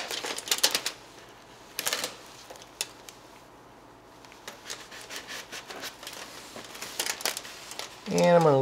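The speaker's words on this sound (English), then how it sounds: "I'll start with my trusty aluminum foil." Aluminum foil crinkled and laid down as a paint mask on a model plane, scattered close crackling rustles in short bursts with quieter gaps, and a voice briefly heard at the end.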